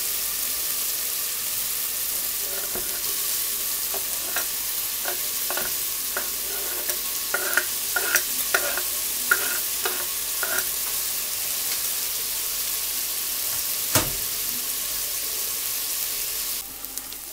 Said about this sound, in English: I didn't take any of the original fat out. I left it in there. Okay, so now the onions can go in.